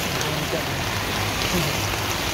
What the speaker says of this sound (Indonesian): wow, hujan nih bang.